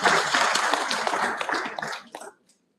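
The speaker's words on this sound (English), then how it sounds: "Please a round of applause for yourselves also." An audience claps at a ceremony, a dense burst of applause from many hands that thins into scattered claps and stops after about two seconds.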